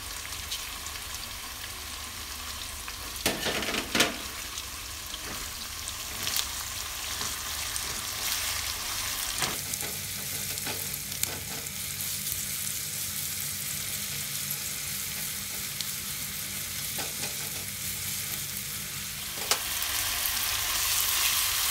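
Spice paste with lemongrass, bay leaves, galangal, stock powder, salt and sugar fries in a pan, giving a steady, close sizzling hiss that runs the whole time with occasional stirring scrapes.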